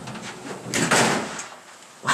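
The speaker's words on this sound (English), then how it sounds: "Let's close the door." An OTIS elevator door at the Texas Tower in El Paso closes with a rushing slide and a soft thud, followed by another brief knock, heard close by.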